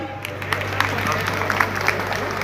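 Light, sparse clapping from an audience at a festival event, scattered claps over a low steady hum with faint crowd murmur.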